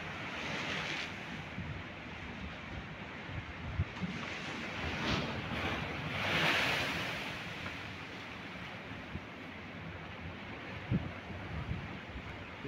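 Stormy sea surf rolls and crashes against the shore at Sevastopol, a continuous roaring wash with broader surges as waves break, buffeted throughout by wind noise on the microphone.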